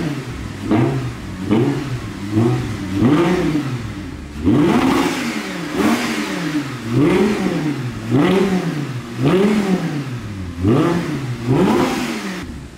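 An Audi R8 with its original exhaust, set to sport mode, is revved again and again, its engine rising and falling in about ten loud, close blips with a deep roar.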